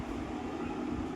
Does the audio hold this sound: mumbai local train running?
yes